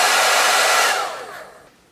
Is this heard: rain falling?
no